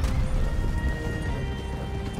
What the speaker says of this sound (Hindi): मेरा घोड़ा आउट ऑफ कंट्रोल जा रहा है भाई अपने आप ही चल रहे हैं